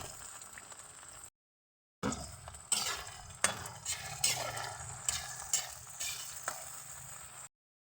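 A sweet-sour sauce for tuyo (dried fish) is stirred in a pan after a splash of vinegar goes in, giving a steady sizzle with scraping and clinking strokes, briefly cut off then resuming.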